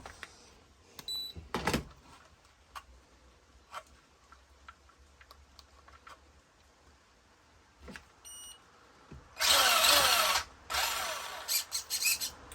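A Tamiya Holiday Buggy's electric motor wired to a battery, with faint clicks and small taps at first, then a loud, steady whining buzz in two bursts near the end, heard up close.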